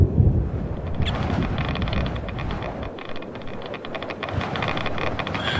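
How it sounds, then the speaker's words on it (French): Steady rushing wind in the underwater survival game Subnautica, a broad continuous whoosh with faint higher whistling streaks, loud and sustained throughout with no talk. "Genre le vent dans les oreilles et tout"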